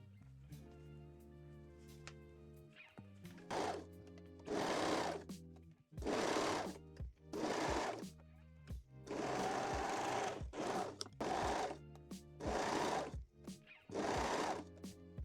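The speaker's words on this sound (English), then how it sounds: "pin and sew the center front seam" Sewing machine stitching the center front seam of a wire-free bralette. A near motor whir runs in several bursts of one to two seconds with short pauses between, loud and alone without any talk.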